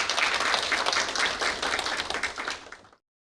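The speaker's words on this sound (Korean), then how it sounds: "힘찬 박수로 부탁드리겠습니다" A lecture audience at a university-and-city forum gives dense, lively applause in welcome, a full burst of clapping that carries on for about three seconds and then cuts off abruptly.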